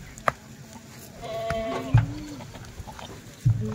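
A goat at a livestock sale gives a wavering bleat, fairly close, with other faint animal sounds and thumps around it.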